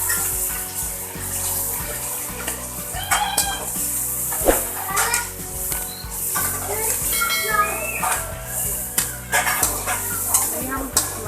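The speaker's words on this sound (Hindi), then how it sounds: "अदरक और हरी मिर्ची और टमाटर ये चीज़ें ऐड करेंगे। इन चीज़ों को हम अच्छे से भूनेंगे।" Ginger, green chilies and tomatoes fry steadily in a pan with a continuous close sizzle and occasional stirring clatter, while voices and household noise carry on in the background.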